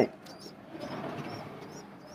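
A Bengali pigeon, a chila breed kept with its chicks, gives soft low cooing throughout, close and steady, with faint higher bird chirps above it.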